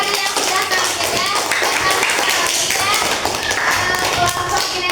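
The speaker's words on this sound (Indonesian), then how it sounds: "Beri tepuk tangan yang meriah untuk kelompok tadi yang sudah tampil ya." A classroom of students claps for a group that has just performed, a loud, brisk patter of many hands mixed with tapping and lively children's voices chattering over it throughout.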